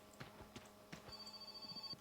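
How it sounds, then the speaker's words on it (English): Telephone ringing in the video game My Summer Car, a faint repeating electronic ring with steady pulses over quiet background sounds, no talking. "Oh, there's the phone"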